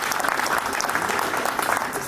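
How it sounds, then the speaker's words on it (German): Crowd applause at the Hofer Schlappentag festival, a steady dense clapping from many hands that fills the whole stretch evenly and loudly, with no pauses. "Der Applaus ist für die, die es machen und die die Fackel weitertragen"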